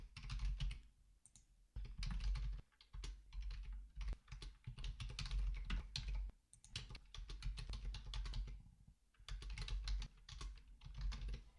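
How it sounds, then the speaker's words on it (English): Typing on a computer keyboard while filling in a survey grid form, with tab key presses among steady bursts of close, quick key clicks separated by short pauses. "I'm hitting the tab key now to get down below."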